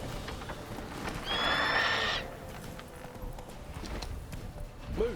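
Horse hooves clip-clopping in The Witcher 3, a steady run of close hoofbeats with a horse's whinny breaking in briefly partway through.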